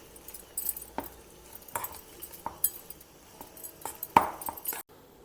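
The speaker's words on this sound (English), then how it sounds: "Now mash all the vegetables" Boiled vegetables and grated beetroot are mashed in a pot, giving scattered knocks and metallic clinks against the pot at an irregular rhythm, moderately loud and close, with no voices.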